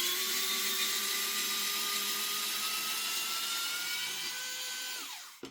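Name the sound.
electric screwdriver removing screws from airsoft MP9 lower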